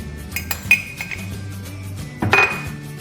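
Spiced filling of minced meat, rice and vegetables with black pepper, coriander, ginger and cinnamon stirred in a bowl, giving scraping, clinking spoon-on-bowl sounds with a few sharper clinks, close and unaccompanied by talk.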